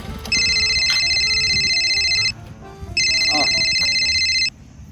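A phone rings with two long electronic trills separated by a short pause, loud and close over faint room noise and a little talk.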